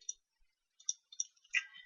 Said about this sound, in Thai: ผมก็เอาเมาส์ไปคลิกที่บริเวณนี้